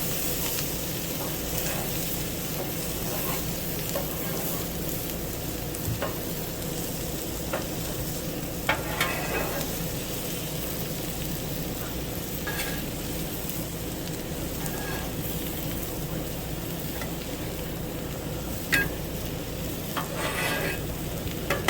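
French fries sizzling on a Blackstone griddle turned up high on a houseboat: a constant dense crackle and hiss with occasional scrapes and light taps, no voices.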